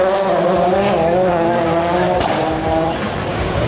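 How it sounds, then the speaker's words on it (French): Turbocharged WRC rally car with a roughly 500-horsepower engine racing flat out at an autocross event, its engine note loud and sustained with pitch shifts through gear changes, tyres scrabbling on the loose surface. "ces moteurs de litre de cylindrée, moteur turbo-compressé, 500 chevaux de puissance pour ces machines."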